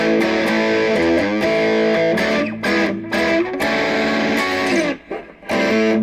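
An electric guitar on its Lamsam P90 bridge pickup at full distortion plays a riff, loud, chunky chords and quick choppy notes with brief gaps between phrases.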